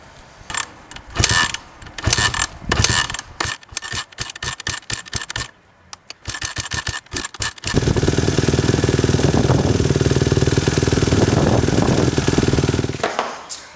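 Dirt bike being kicked over with a string of sharp mechanical clatters and stutters, then the engine catches and idles steadily and loudly for several seconds before cutting out.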